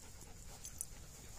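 A dog panting in a garden: soft, quick, rhythmic breaths, faint and steady against a low outdoor hiss.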